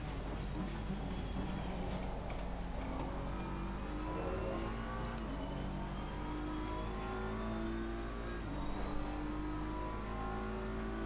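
A race car in a racing video game accelerates hard along a straight while chasing a Porsche, its engine note climbing steadily through the gears in a continuous, moderately loud whine with no talking.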